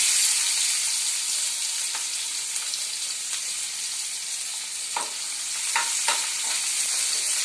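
Chopped onion sizzling steadily in hot oil with cumin seeds, a dense continuous fry with occasional stirring clicks and scrapes from a utensil in the pan.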